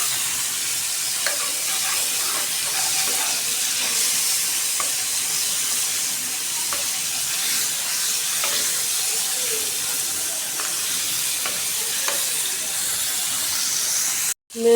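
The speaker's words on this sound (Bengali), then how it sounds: "শিং মাছটা একটু ভেজে নিতেছি, লাল লাল করে একটু ভেজে নিতেছি" Stinging catfish pieces fry in hot oil in a pan, a steady loud sizzle and hiss that runs unbroken throughout, with occasional faint stirring clicks.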